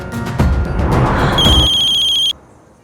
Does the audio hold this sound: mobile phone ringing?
yes